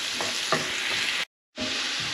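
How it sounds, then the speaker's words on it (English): Finely chopped onion fries in oil for an ivy gourd masala gravy, giving a steady close sizzle with a few stirring scrapes. The sound drops out briefly partway through, then the frying resumes. "add 2 to 3 tablespoons of chopped onion, finely chopped onion, and fry till it turns slightly golden in color"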